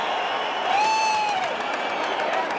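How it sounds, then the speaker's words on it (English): Crowd at a Celebrity Cricket League match between Karnataka Bulldozers and Telugu Warriors gives a brief swell of cheering and applause after a couple of runs, a steady broadband roar with a whistle-like tone rising over it. "Some cheer in the crowd."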